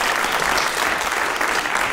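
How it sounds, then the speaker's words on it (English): Dense, steady applause from an audience at an arts institutions panel discussion, loud and even with no talking over it. "Let's give a round of applause."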